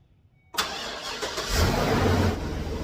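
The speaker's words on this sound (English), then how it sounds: "Let's fire this truck up." A Chevy 3500 HD truck engine cranks and catches after a short silence, then settles into a loud, steady idle rumble close by.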